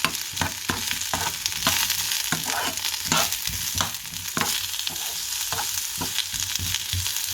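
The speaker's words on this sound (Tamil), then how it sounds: "முருங்கைக்காயை போட்டு சேர்த்து வதக்கும்" Drumstick pieces sautéing with softened onions in a pan, producing a steady close sizzle broken by repeated spatula scrapes and stirring knocks at a lively rhythm, with no talking.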